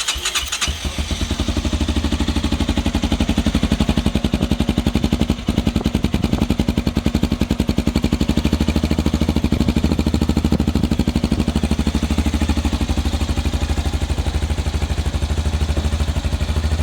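A Tekken 250 Pro motorbike engine starts and settles into a loud, rapid, popping exhaust idle, close by and steady for about sixteen seconds.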